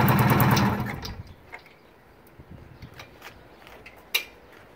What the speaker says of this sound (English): The old engine sounds okay.